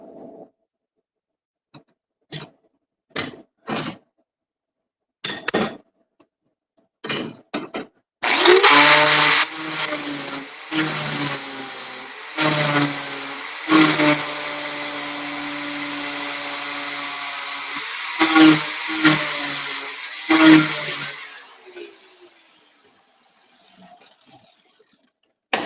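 A power tool trims metal for a welded extension, starting with several short bursts, then running in one loud continuous whining stretch of about thirteen seconds with dips in pitch, before spinning down to quiet ticks.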